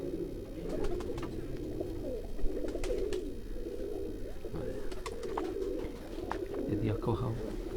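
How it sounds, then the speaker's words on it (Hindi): Tiger pigeons coo in a low, repeated murmur near a rural pigeon loft, with sharp chirps and shuffling noises over a steady outdoor background and some people talking faintly. "ये है जी टाइगर कबूतर, है जी टाइगर कबूतर है जी।"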